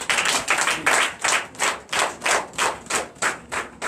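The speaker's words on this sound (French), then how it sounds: "Donnez l'acclamation à Jésus." A church congregation at a Sunday service claps together in a steady, rhythmic beat, about three claps per second, loud and close with no talking over it.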